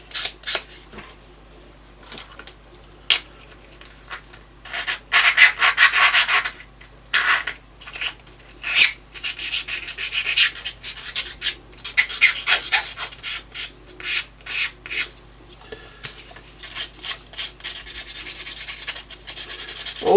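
A metal file rasps across the sharp cut edge of an aluminium drinks can, working in bursts of quick strokes that come close and loud with brief pauses between, no voices.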